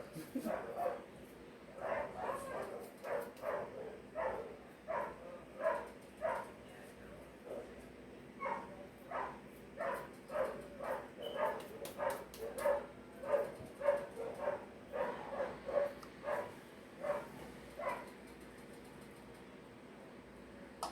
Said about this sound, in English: The old dogs are barking at the new dogs.